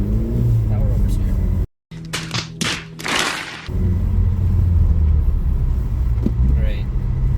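A Ford Focus engine revs hard during a power oversteer slide on a snowy road, with a loud rumbling drone, a brief cutout and surging bursts, someone talking over it.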